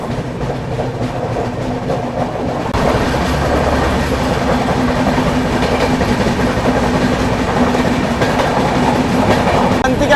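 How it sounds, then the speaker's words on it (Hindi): An empty passenger train rake rolls into an Indian railway platform with a steady loud rumble, and the clickety-clack of its wheels grows heavier partway through, continuing without pause right to the end. "वीरभूमि एक्सप्रेस के रेक्स तैयार है प्लेटफॉर्म पे लगने के लिए"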